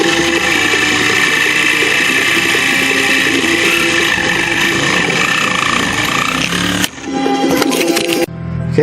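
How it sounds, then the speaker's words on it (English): A Sawzall reciprocating saw cuts a tie rod boot on a 1999 Mercedes-Benz ML320, a loud steady buzzing drone that stops abruptly near the end, followed by a few short clatters. "that allows me to cut more freely with the Sawzall"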